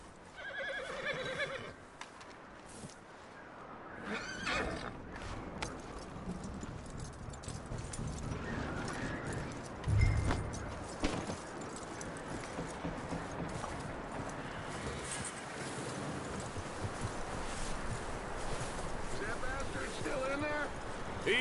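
A horse in Red Dead Redemption 2 whinnies and clip-clops along, hooves beating in a steady rhythm under game ambience and people talking.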